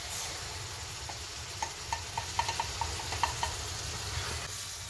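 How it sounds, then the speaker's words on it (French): Chili con carne with tomatoes being stirred in a pot, a soft sizzling hiss underneath a short run of light scraping clicks from the spoon in the middle, quiet and close. "Et on mélange bien."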